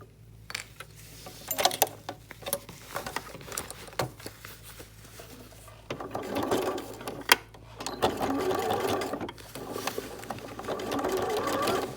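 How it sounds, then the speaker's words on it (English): A sewing machine stitching a cotton seat belt cover: uneven bursts of rapid mechanical whirring and needle chatter, close by, with brief pauses between runs. "Now we're going to sew that in place."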